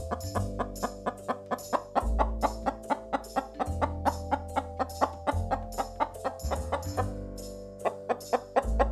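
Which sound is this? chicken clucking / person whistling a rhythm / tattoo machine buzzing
chicken clucking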